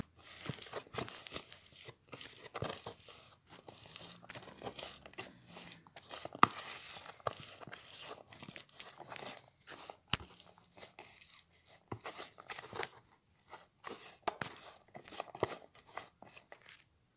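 Whisking a homemade skin-lightening soap mixture by hand produces steady scraping, clicking and crackling strokes, close and fairly quiet, continuing with no talk.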